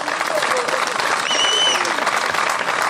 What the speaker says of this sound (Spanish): E damos un forte aplauso porque ben o merece